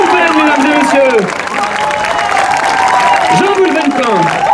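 A crowd at an outdoor Saint Loup 2024 animation event in Trescalan, La Turballe, claps and cheers for Jean Goulven-Pin beneath loud, strong voices from a public-address announcer and other calls.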